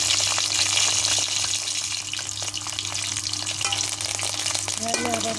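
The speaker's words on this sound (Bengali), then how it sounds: "মরিচগুলো হালকা লাল করে ভেজে নেবো।" Green chillies and bay leaves fry in oil with a loud, dense sizzle, broken by the scraping clicks of stirring. The sound stays constant and close throughout.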